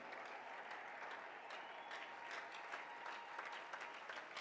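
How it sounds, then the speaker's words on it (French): A church congregation applauds and cheers in praise, a dense continuous patter of many hands clapping with crowd voices mixed in, steady and moderately distant throughout. "Est-ce qu'on peut se lever et acclamer très fort le Seigneur, notre Dieu?"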